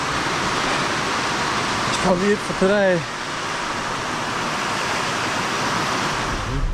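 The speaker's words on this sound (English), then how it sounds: "Oh my goodness, the rain's pouring down." Heavy rain pours down steadily at a tiny house building site in the Philippines, making a loud, constant hiss throughout, with a person briefly speaking over it partway through.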